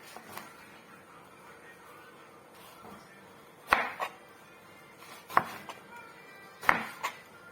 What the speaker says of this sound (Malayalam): വഴുതനങ്ങ അരിയുവാണേ.